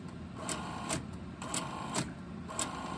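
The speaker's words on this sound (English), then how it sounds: "it buffered it because this printer is not as fast as how fast the panel is able to report it" An alarm receiver printer prints a run of event reports, giving regular mechanical bursts of clattering print-head strokes about once a second over a steady background hum, close and alone.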